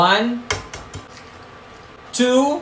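A few sharp clinks and clatters of eggs set into a metal pot of boiling water, with brief spoken counting at the start and end.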